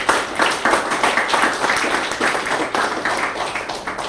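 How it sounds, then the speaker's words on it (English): A church congregation claps in praise, a steady, dense run of many hands clapping together with a loose rhythmic pulse, loud and continuous throughout. "let's give the Lord a big hand of praise"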